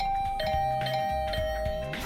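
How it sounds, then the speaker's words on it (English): Electronic doorbell chimes from The Hundred Line video game ring in a quick flurry of repeated bright tones over a soft musical background, loud and close. "I didn't like the sound of that flurry of doorbell rings."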